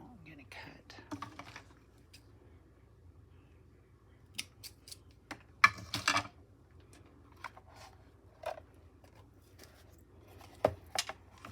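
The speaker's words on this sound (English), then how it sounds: "Now I'm going to cut." Scissors snipping through material for a junk journal cover, a series of quiet, close, irregular cuts with soft handling sounds between them.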